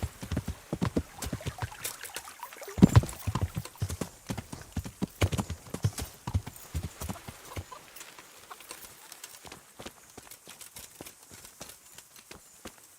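Horse hooves clip-clop steadily across a medieval village in a video game, a continuous rhythmic trot of moderate loudness with a brief louder knock near the start and no talk.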